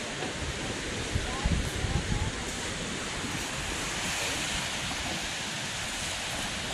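Strong wind blowing steadily outdoors at a survival campsite, a dense, continuous broadband roar with a few louder gusts near the start.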